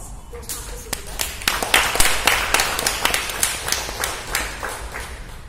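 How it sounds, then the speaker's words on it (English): Audience applause at a Toastmasters club meeting welcoming a speaker before a prepared speech: a room of scattered, uneven clapping with sharp individual claps, moderately loud and sustained for several seconds with no talk over it. "please welcome her with a thunderous applause"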